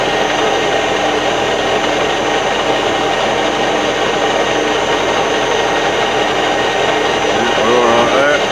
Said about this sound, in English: I'm going to set the machine going as slow as it will go.